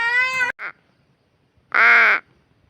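A crow caws loudly nearby, one harsh call followed by a short clipped note, a pause, then a second drawn-out caw.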